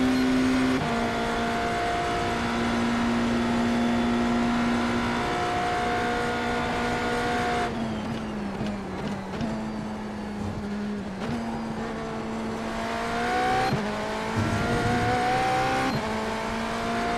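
A race car in a Le Mans racing video game drones loudly and continuously, its engine note holding steady, then dropping and climbing again through gear changes.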